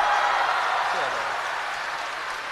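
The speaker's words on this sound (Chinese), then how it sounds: "我明白您这掌声都不是给我的" Warm audience applause at a crosstalk comedy stage show, a dense, even wash of clapping that fades slightly, with a voice briefly heard over it.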